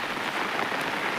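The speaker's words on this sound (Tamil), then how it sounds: "பின்னாடி வராரு பாருங்க, நல்லா மழை பெய்யுது." Heavy rain pours down on a farm, a loud, dense, continuous hiss close by with no break and no voices.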